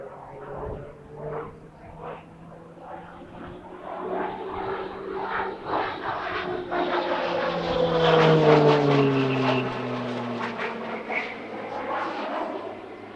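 A propeller aircraft with Pratt & Whitney PT6A turboprop engines flies past at the Leszno airshow, its droning engine tone rising and shifting in pitch as it swells to a peak and then fades slightly.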